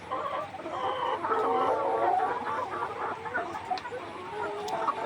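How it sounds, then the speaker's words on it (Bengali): 147-day-old laying hens clucking softly in a group, overlapping low calls at moderate distance over a faint barn background. "মুরগি খাবার খাচ্ছে ভালোই"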